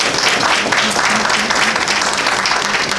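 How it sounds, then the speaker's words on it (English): An audience claps loudly and continuously at a 60th anniversary celebration, a dense wash of applause filling the room with a faint voice underneath. "Can we have another round of applause for"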